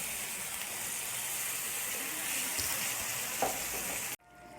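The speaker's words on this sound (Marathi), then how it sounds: "पाणी टाकू, जेणेकरून ते फ्राय व्हायला मदत होतं." Radish and egg masala sizzling in a pan after a splash of water, a steady hiss of frying with stirring scrapes that cuts off abruptly near the end, with no talk.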